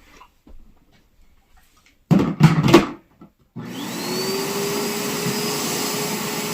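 A Bissell Bark Bath machine switches on with a steady, fairly loud motorized suction whir after a few knocks and clunks of handling, running continuously to the end.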